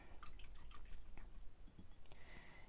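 During watercolor painting, a wet brush carrying plain water touches the paper and is rinsed, giving quiet, close, irregular drips and small splashy liquid ticks.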